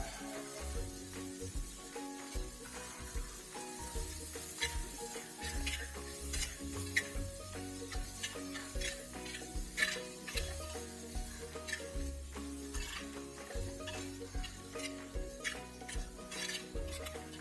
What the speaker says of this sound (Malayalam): കുറച്ച് ഉപ്പ് ചേർത്ത് ഉള്ളി ഒന്ന് വഴറ്റിയെടുക്കാം.